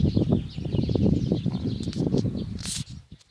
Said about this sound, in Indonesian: Terlihat banyak burung di atas pohon beringin ini.